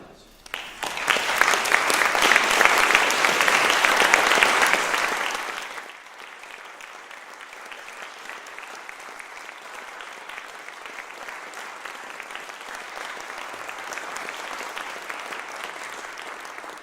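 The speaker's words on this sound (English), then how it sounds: "I'd like to give him a very warm applause" Warm audience applause at a theory conference, loud and dense clapping for about five seconds, then dropping to a softer, steady patter of continued clapping across the room.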